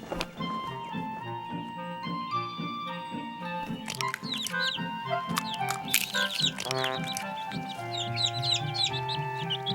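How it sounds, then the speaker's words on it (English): Cartoon birds chirp, cluck and twitter in quick bursts over a cheerful music backing, growing busier toward the end. "There were birds,"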